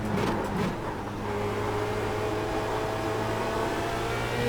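A Formula Renault 2.0 race car in a racing video game re-accelerates out of a corner at Zandvoort, its engine droning loud and steady with a sustained rising whine and no voices.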